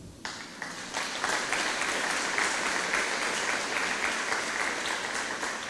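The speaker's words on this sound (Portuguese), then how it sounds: "Aplauda o Senhor." A church congregation applauds, a dense burst of clapping that starts abruptly and holds steady and loud for several seconds.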